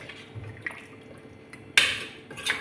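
Water is poured into mutton green masala in a pot, a short splashing rush near the end with faint clinks of utensils before it, close and fairly quiet.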